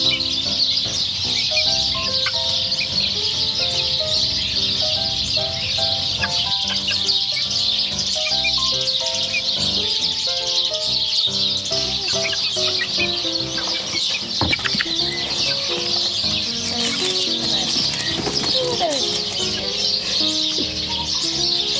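Neighbour's chickens cluck steadily and overlap with a constant chorus of chirping birds outdoors, all dense and loud throughout, with no speech.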